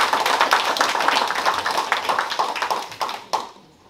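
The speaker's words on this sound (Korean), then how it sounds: "감사표를 수상하신 분들에게 큰 박수로 다시 한번 축하해 주시기 바랍니다." An audience at a park's tenth-anniversary ceremony applauds award recipients with dense, steady clapping that tapers off and fades out near the end, with no voices.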